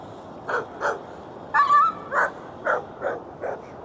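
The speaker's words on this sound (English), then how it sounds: "That dog sounded like something hit it." A dog yelps and whimpers near a Florida canal, about eight short sharp cries in uneven succession with one longer drawn-out whine in the middle, loud and close with no talk.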